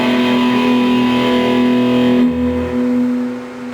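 A distorted electric guitar chord played open in a metal style, sustained with a buzzing, saturated tone for several seconds before being cut off, loud and close with no voices.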